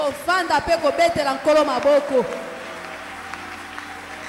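A church congregation claps during a service, a broad, steady wash of applause that starts beneath a loud voice and then carries on alone.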